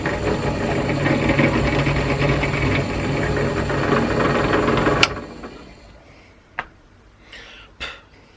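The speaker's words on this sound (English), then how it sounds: "I've got to drill this jet out." An electric drill bores out a small jet from a Honda CX500 motorcycle carburetor, a steady close whirring for about five seconds before it stops, followed by a few faint clicks and taps.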